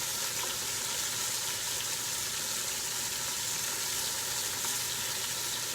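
Onions fry in a pan, giving a steady, even sizzle with soft crackle throughout, fairly quiet and with no talking.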